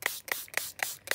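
A handheld spray bottle filled with plain water sprays five quick, evenly spaced hissing bursts close to the mic, alone in a quiet room.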